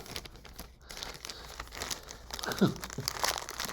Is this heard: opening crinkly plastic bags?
yes